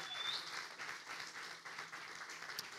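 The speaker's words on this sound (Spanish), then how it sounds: "Vamos a dar un aplauso fuerte al Señor." A Spanish-speaking church congregation gives a round of applause, soft, continuous clapping heard at a distance with no voices over it.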